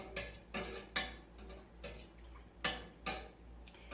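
A metal spoon repeatedly knocks and scrapes against a pot as milk is stirred for homemade yogurt, with regular clinking strokes about every half second, close and fairly quiet, no talking.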